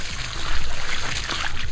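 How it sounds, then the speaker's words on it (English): Water gushes from the outlet of a double air pressure pump with no electricity, used for a rice field, making a dense, steady splashing and pouring close by, loud and continuous. "Oh, water is coming, it's good."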